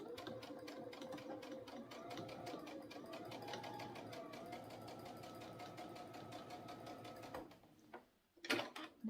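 A sewing machine stitching quilt binding hums and clatters in a fast, steady rhythm for about seven seconds, fairly close, then stops, followed by a few handling knocks and rustles.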